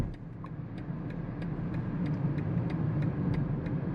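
The engine of a 2022 BMW X5 xDrive40i drones as a low, steady rumble from inside the cabin in sport mode, with regular faint ticking above it and no distinct downshift blip.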